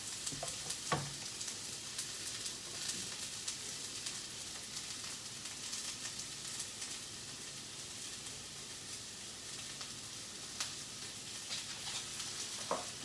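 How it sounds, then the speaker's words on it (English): Steady sizzling of salted mushrooms frying in a hot cast-iron pan, a continuous crackling hiss with a few louder pops, no voices. "Hear that sizzle."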